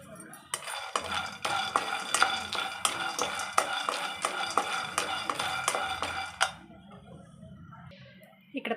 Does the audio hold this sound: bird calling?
no